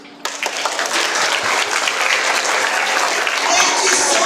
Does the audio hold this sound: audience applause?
yes